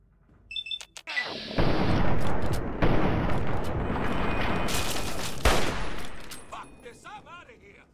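Sustained gunfire from the Fallout 3 video game, a dense burst of shots running almost continuously for several seconds after a brief lead-in, loud and close, with beeps near the end.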